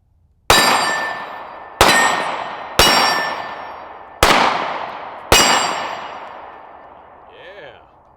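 Five loud, sharp STAR Model 30M pistol shots ring out one at a time, each trailing a long echoing decay, spaced about a second apart, followed by a brief faint voice.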